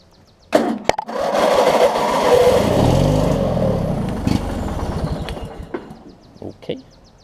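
A Craftsman LT1000 riding mower with an opposed-twin engine cranks with a few sharp clicks, catches, and runs loudly and unevenly before settling and dying back, with brief knocks near the end.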